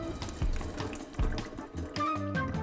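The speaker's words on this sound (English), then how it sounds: "So what we need to do now though is rinse all that salt off." Steady running tap water splashing into a sink while salted cabbage is rinsed for homemade kimchi, continuous and close with small shifts in the splash.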